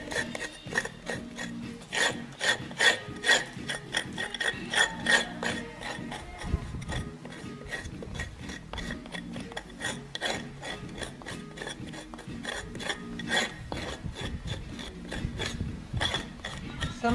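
Hard scraping on a floor surface being cleaned, a dense rasping stream of repeated strokes in a fairly even rhythm, close and steady throughout, with no voices.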